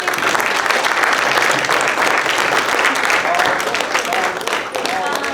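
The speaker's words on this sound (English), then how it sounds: "we want to first give you another round of applause" Loud, dense applause from a sizeable crowd at an art gallery talk, continuous clapping filling the whole stretch without pause.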